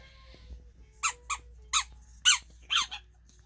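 A rubber squeaky toy carrot squeaks five or six times in short, irregular bursts over quiet room noise, fairly close.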